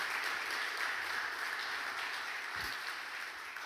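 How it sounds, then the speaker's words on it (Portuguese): A church congregation applauds after a sermon prayer, a steady, soft wash of many hands clapping at a distance, continuous and fairly faint with no clear individual claps. "Dê um aplauso a Jesus pela palavra de Deus."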